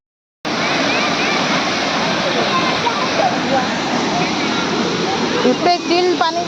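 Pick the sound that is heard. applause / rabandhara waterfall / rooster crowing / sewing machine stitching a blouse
rabandhara waterfall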